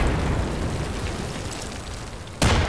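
A burst of grenade blast in a video game arrives near the end, a single loud boom-and-crackle that breaks through steady rumbling in-game background noise.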